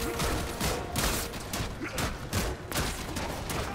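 Dense bursts of enemy gunfire from the Warframe shooter game, rapid overlapping shots in a continuous loud barrage with no pauses.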